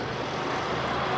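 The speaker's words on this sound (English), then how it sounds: "Now you get some idea of the sound of this airplane." A steady, loud airplane engine roars at an airshow in Newtownards, a dense, broadband drone with no breaks over the short stretch.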